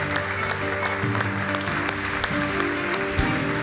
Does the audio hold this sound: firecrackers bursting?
no